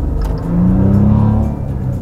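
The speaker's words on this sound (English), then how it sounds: "That raspy Italian twin turbo V6 power." A 2017 Maserati Levante's twin-turbo V6 revs hard, its raspy engine note climbing and holding a loud, rising drone before easing off, heard close from the cabin with no talking.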